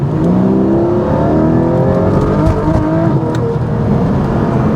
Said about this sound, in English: we'll step on it a little bit and see how it goes